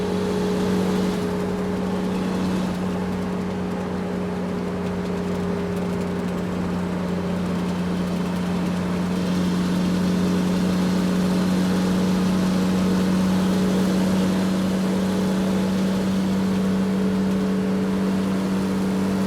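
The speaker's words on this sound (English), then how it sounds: "Baggage tractor." Steady engine drone of an airport baggage tractor, a continuous even hum with a low tonal whine that holds throughout, moderately loud with no talking.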